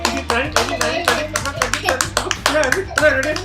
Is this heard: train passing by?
no